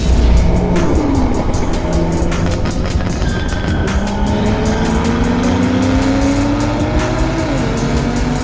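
A tuned 1025 hp BMW G82 M4 revs hard and accelerates at a racing event, engine pitch climbing through gears with loud, continuous roar close by.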